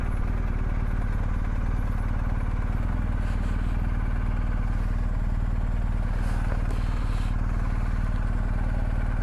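A motorcycle engine idles in a steady, low, throbbing rumble close by, with no talking.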